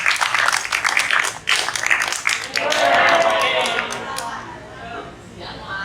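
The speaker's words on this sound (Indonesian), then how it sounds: "Tepuk tangan untuk kita semua dulu dong" An audience at SMPN 1 Yogyakarta applauds, with brisk clapping that swells and then tapers off over a few seconds, close by and fairly loud.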